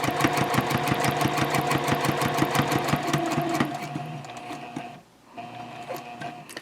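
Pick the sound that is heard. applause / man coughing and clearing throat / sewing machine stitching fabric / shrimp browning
sewing machine stitching fabric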